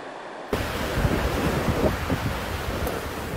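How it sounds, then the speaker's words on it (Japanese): Heavy rain and a swollen, muddy river torrent surging through a town in Gifu Prefecture during a storm, a loud, steady roaring wash of rushing water and wind that starts abruptly after a brief quiet moment. "大量の水は川に流れ濁流となって町を襲います"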